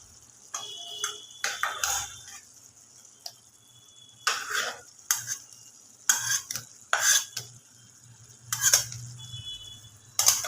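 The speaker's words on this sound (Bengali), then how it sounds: "আলুগুলো দিয়ে খুব ভালো করে মশলার সাথে আমি মিশিয়ে নেব" Fried potatoes are stirred into a thick masala in a pan, with bursts of loud scraping and clattering from a spatula separated by quiet gaps, and a faint hum beneath.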